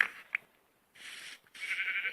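Minecraft sheep bleating in short, nasal, wavering calls, with a few separate bleats spaced apart and fairly close, with no talk over them.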